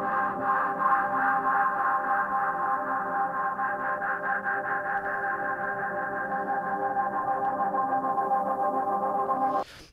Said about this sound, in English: I'm also adding in a little bit of distortion, and I've EQ'd that distortion to give it some additional character